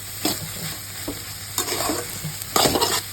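A spoon stirs scrambled eggs frying in a pan, a steady sizzle underneath with several scraping stirs coming in bursts, close and fairly loud, no talking.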